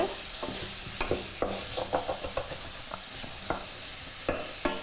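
Food browning in a hot pan, with a steady bright sizzle of frying and regular scraping taps of a utensil stirring the pan, close and continuous with no talking.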